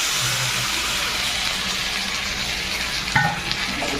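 Chicken pieces fry in a pan with garlic and green chili, giving a steady, dense sizzle that runs evenly throughout, with a brief stir or clatter near the end and no talking.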